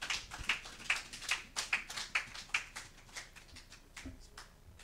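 Church congregation applauding at a French-language worship service, a steady run of quick hand claps with rhythmic peaks that fade toward the end, with faint voices underneath.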